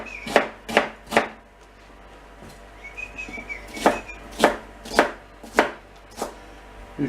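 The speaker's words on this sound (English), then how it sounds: "I better get chopping." Tomatoes are chopped roughly on a board for home-made tomato sauce, about ten sharp knife strikes in uneven clusters, with a faint bird-like whistle in the background between cuts.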